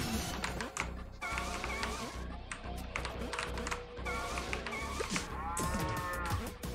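A cow moos repeatedly in a video game, loud drawn-out calls over busy game sounds, music and effects, with a voice reacting in between.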